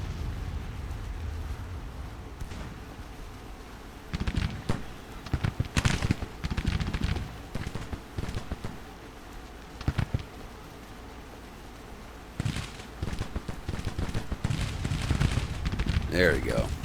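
Bursts of gunfire and booming artillery from a Civil War battle video game crackle and thump in irregular clusters over a constant battlefield rumble, with a voice speaking over it.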